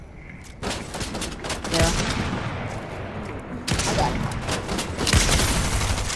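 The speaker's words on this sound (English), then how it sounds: "Are they shooting at you?" Gunfire in the Fortnite video game comes in several rapid broadband bursts and volleys spread across a few seconds, with a brief spoken word.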